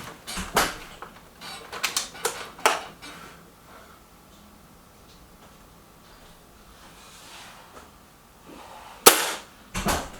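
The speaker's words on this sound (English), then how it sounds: "Another 10 for the Leviathan, who's also shooting really well" Sharp target shooting shots at an air gun competition between a Kral Nish and a Nova Vista Leviathan, crisp snapping cracks in a quick cluster early, a few sparse ones later, and a final loud crack near the end.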